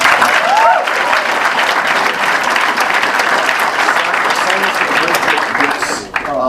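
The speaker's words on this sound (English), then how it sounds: "Can you clap it up real quick?" Audience applause fills a talk venue, a loud, dense round of clapping from a crowd that stays strong throughout and dips near the end, with faint voices mixed in.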